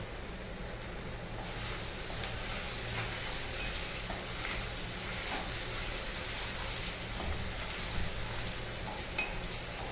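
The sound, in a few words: garlic and ginger frying in pan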